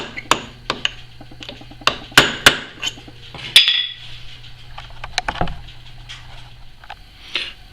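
Sharp metallic hammer taps on a center punch, staking the clutch hub nut of a Suzuki Bandit 1200 motorcycle; around a dozen separate, irregular ringing strikes, close and clear, with light clinks between them.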